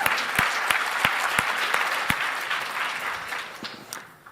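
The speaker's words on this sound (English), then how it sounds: "Let's give her another round of applause." Conference audience applauding a speaker, a crowd of hands clapping with a few sharp, nearby claps standing out early, then the applause gradually thins and fades toward the end.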